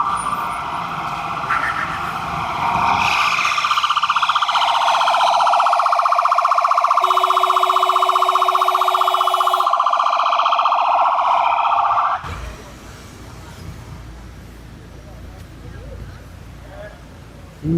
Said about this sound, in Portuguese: Aí tem uma ambulância na minha frente.